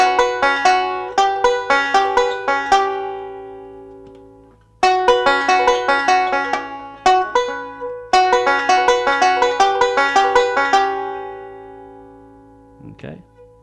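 Rapid banjo rolls keep returning to the third string, with bright, dense picked notes in three bursts separated by brief gaps, close and loud, ending with a short voice.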